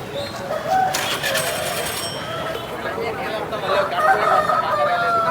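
A rooster crows amid other fowl at the Vijayawada rooster market, over a steady crowd murmur, with people talking nearby.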